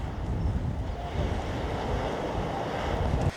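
Surf at Ilfracombe in North Devon washes steadily onto the beach in a continuous close roar, with wind buffeting the microphone.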